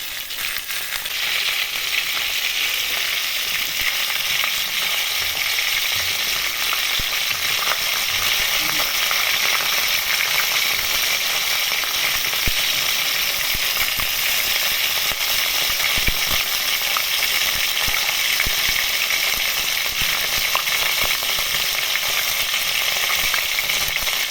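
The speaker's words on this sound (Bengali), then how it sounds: "মাছ আমার ভাজা হয়ে গেছে" Fish frying in oil for a crispy Thai-style dish, a loud continuous sizzle and crackle close by, steady from start to finish with small pops scattered throughout.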